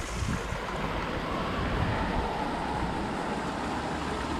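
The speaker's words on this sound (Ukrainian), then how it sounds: "Ще й такий холодний, мощний потік." A cold, powerful stream of water rushes without a break in a loud, close, broadband roar that stays steady throughout, with no voices.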